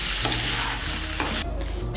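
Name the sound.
vegetables frying in oil in a kadai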